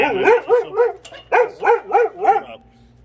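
A dog barks sharply and close by, seven loud barks in two quick bursts with a short pause between them, heard alone beside a charcoal grill.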